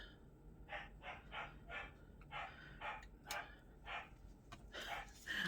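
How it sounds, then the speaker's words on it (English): A small young female dog barks repeatedly in a steady series of short yaps, fairly faint and distant as if outdoors, aimed at birds or a squirrel, with a crow cawing nearby. "She's barking at the birds or a squirrel or something."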